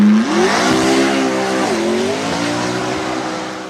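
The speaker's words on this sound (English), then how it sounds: "McLaren P1 GTR." A McLaren P1 GTR track-only supercar engine revs hard and close, rising in pitch, dipping briefly between gears, then climbing again in a steady, loud, high-pitched howl.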